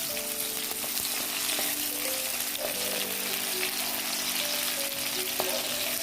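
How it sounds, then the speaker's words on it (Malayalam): Red chillies fry in a pan for roasted coconut chammanthi, giving a steady, close hiss of sizzling oil that runs unbroken throughout, with faint clicks of stirring. "മുളക് നന്നായിട്ട് മൂക്കണം"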